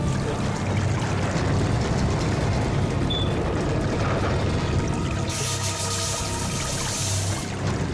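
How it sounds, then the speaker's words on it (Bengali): Water floods into a submarine in a dramatic TV film scene: a steady, heavy rushing and gushing that fills the whole clip, swelling into a brighter hiss near the end. "জল ভেতরে ঢুকছে স্যার।"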